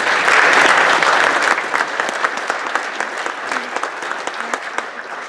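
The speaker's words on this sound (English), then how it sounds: "And receive a round of applause." Audience applause at a school FFA banquet, a dense wash of many hands clapping that starts loud and eases slightly to a steady patter over about five seconds.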